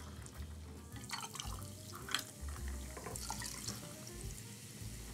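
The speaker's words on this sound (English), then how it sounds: "And top up with cola." Cola poured over ice into cocktail glasses with white rum, a steady faint fizzing and trickling with small drips and clinks throughout.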